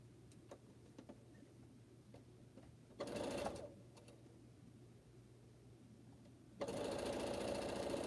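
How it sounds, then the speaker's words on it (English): Sewing machine stitching quilt block seams, heard in two short runs of steady mechanical whirring, with quiet ticking and handling noises in between against a low hum. "And this is our last set of sewing."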